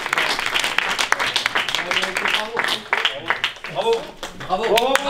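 An audience at a film festival awards ceremony applauds steadily, crowd clapping running throughout with voices and cheers rising over it in the second half.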